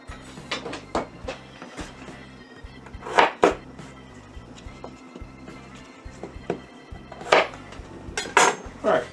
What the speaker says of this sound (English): all these potato quarters into our pot